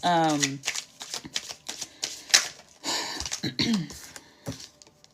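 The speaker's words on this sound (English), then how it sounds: "I'm just going to go ahead and shuffle this deck" A deck of cards riffle-shuffled in quick crisp bursts, with a person talking over the shuffling.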